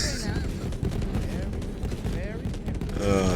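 Fireworks bursting in a video game set around the 4th of July, a dense run of rapid crackling pops and booms with a speaking voice over them.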